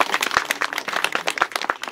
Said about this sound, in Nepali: सबैले जोरदार ताली बजाइदिनु